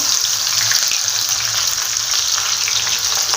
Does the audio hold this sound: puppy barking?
no